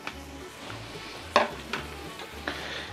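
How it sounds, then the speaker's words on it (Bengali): Washed rice for chicken biryani frying in a pot and stirred, a soft steady sizzle broken by a few sharp scrapes and knocks of the spoon against the pot, close and fairly quiet. "এখন চালটা এর মধ্যে ভাজা হবে প্রথমে।"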